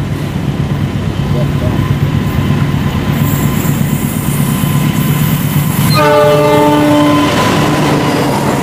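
A passenger train rumbles past nearby through station switches with steady track noise, then a loud sustained horn sounds near the end, layered tones blaring for a couple of seconds.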